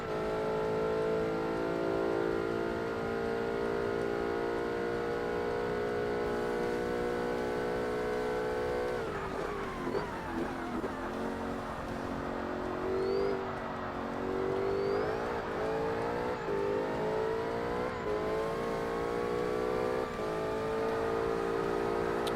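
A Professional Class R-P1 race car in Forza Motorsport holds a steady, loud, high engine drone, then shifts and revs through rising and falling pitch sweeps as it brakes and accelerates, continuous and close, with no talking.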